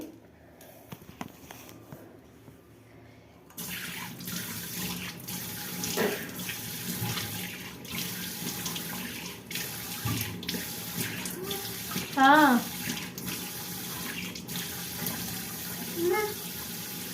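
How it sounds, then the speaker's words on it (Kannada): Water runs from a tap into a sink during face washing, a soft, steady hiss that starts a few seconds in and continues with small splashes and handling sounds over it. "ಈಗ ಫೇಸ್ನ ತೊಳ್ಕೊಂಡು ತೋರಿಸ್ತೀನಿ ಒಮ್ಮೆ ನೋಡಿ"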